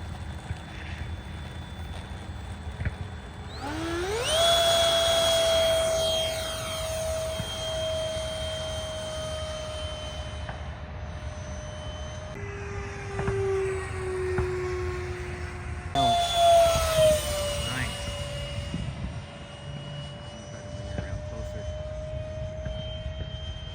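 A Durafly DH 100 Vampire RC model jet's electric ducted fan spools up to a steady high whine as it takes off and flies, the pitch sliding as it passes and fades, over outdoor wind noise.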